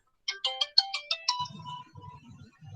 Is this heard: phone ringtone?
yes